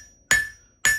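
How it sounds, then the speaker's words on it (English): Two sharp, ringing hammer blows strike a steel leaf on an anvil, each with a bright metallic ring that fades before the next, spaced about half a second apart, close and loud. "rolling the hammer over, and spreading it, and staying in the center, not on the edges."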